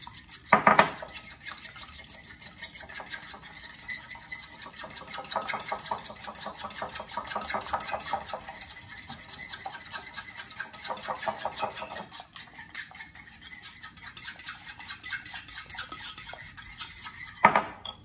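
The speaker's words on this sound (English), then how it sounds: "Now you can take a fork and you're just gonna whisk them." A fork whisks eggs in a bowl, producing rapid rhythmic clinking against the bowl in several bursts with short pauses and a few louder taps at the start and end, close up with no talk.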